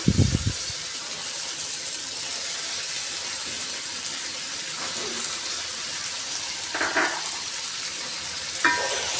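Green chillies, mint and coriander stirred into softened tomatoes in a frying pan for bagara rice, giving a steady close sizzle with a few scraping clatters from the spoon and no talking.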